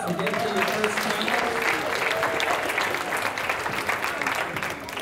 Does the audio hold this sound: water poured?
no